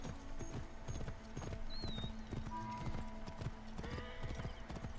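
Horse hooves clip-clop in Assassin's Creed Origins: Curse of the Pharaohs, a brisk, regular galloping rhythm close up, with a brief whinny and game sounds layered over the steady hoofbeats.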